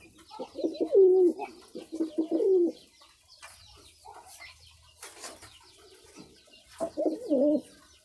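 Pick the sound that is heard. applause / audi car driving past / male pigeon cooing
male pigeon cooing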